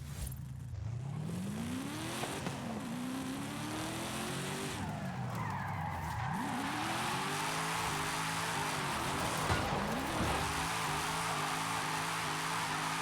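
A car spins donuts in the Forza racing game, its tires squealing in long rising and falling sweeps over a steady engine drone, loud and continuous with no talking.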